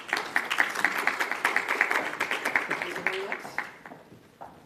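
A conference audience at a research pitch competition applauds to welcome a speaker, a fairly faint, brisk patter of claps that thins out and fades to near silence toward the end.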